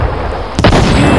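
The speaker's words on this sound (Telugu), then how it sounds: "ఈ బాంబు పేలి భలే వచ్చదు అనమాట చూడటానికి" A firecracker bomb explodes near the North Korean border in winter in China, a single sharp, loud blast breaking a quiet background, followed by a lingering rumbling echo.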